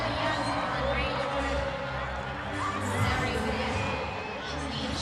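A rugby crowd at a women's international between Italy and South Africa roars and cheers steadily, a loud, broad wash of voices that swells briefly midway, with commentary talk underneath.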